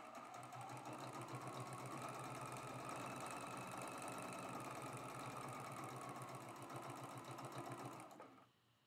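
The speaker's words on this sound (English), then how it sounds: "I'm going to go ahead and sew that with a 1/4 inch seam allowance." A sewing machine stitching a quarter-inch seam on a quilt block, running in a fast, steady mechanical chatter for about eight seconds before stopping abruptly, close and clear.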